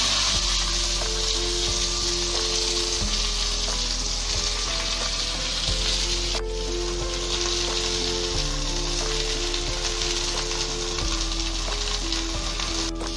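Washed flat beans dropped into hot oil for a light fry give a loud, continuous close sizzle and crackle lasting throughout, with a brief louder spatter partway through and no voices.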